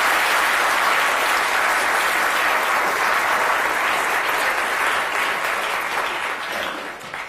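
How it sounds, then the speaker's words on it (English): Loud, dense audience applause at a talk, a continuous roar of many hands clapping that holds steady and then starts to fade toward the end. "Give her a round of applause."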